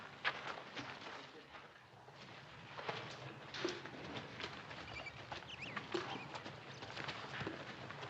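Horse hooves clip-clop steadily at a moderate distance, a continuous patter of hoofbeats with faint background noise and occasional voices.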